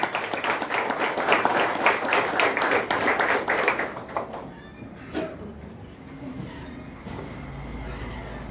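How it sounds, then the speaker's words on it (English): Audience at a junior college award ceremony clapping loudly for about four seconds, then fading into quieter room noise with a few scattered sounds. "Put your hands together. Give them a good big applause."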